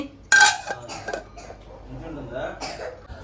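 A round metal cooking pot is handled with one loud, bright metallic clank, followed by softer knocks and shuffling. A voice and a cough sound nearby.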